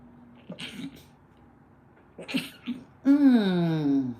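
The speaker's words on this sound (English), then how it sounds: "I'm gonna sneeze." Two sharp, breathy sneeze bursts close to the mic, followed by a drawn-out voiced groan.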